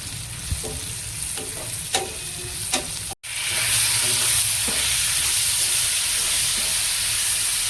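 Tomatoes go into a pan with roasted chillies and fry, a few spoon scrapes over a light sizzle, then after a brief cut a louder, steady hissing fry takes over, close and without talk.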